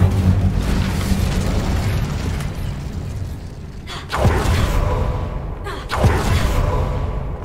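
Casting the Incendio fire spell in a video game sets off a loud, sustained whooshing roar, with two sharp bursts of flame striking partway through over a heavy rumbling bed.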